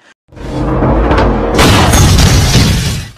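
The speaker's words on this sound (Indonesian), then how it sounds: "Tiba-tiba, Yufa menembak tabung pemadam kebakaran hingga menimbulkan ledakan." In a film, a loud boom bursts out after a brief silence as a shot fire extinguisher explodes, followed by a sustained roaring, hissing blast that rushes and rumbles for a couple of seconds.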